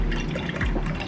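Almond milk pouring into a mason jar, a steady close liquid trickle with small splashy drips throughout, no talking.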